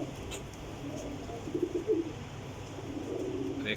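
Sialkoti pigeons coo softly, a few low throaty burbles clustered in the middle against a faint, steady background, fairly quiet and unaccompanied by speech.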